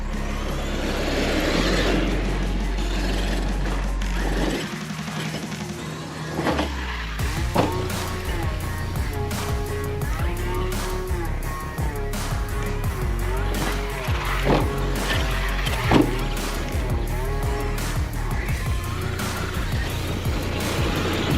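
An Arrma Kraton 8S EXB RC truck on a dirt track: the whine of its electric motor rises and falls continuously, with tire scrabble and bursts of revving. A voice speaks briefly over the driving near the start.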